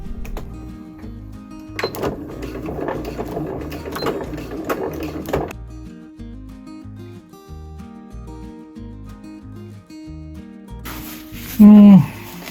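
A sewing machine stitching pop-up roof fabric for a kei camper conversion, running in mechanical bursts at close range, with stops between runs and a brief loud noise near the end.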